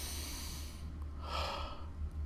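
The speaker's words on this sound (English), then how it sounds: "And let's all just take a moment and breathe." A single slow, deliberate deep breath drawn in and let out, close and soft, heard alone with no talking.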